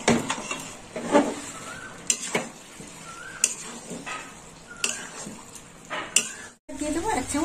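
Fried potatoes stirred into a pan of mocha chicken, with a spoon scraping and clattering against the pan in irregular bursts over a faint sizzle, close up.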